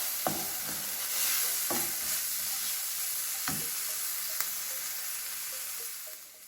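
A spatula stirs coriander and cumin powder through a pan of chicken tikka masala. There is a soft, steady sizzle with occasional scraping strokes, close by and fairly quiet.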